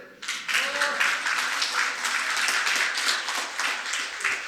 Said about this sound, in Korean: 죽이면 박수 치세요